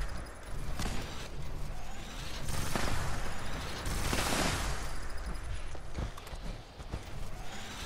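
Explosive scattered Gatling plasma gun firing in Fallout 76, a sustained rapid stream of crackling shots and bursts with surging, blaring peaks, loud and continuous for several seconds.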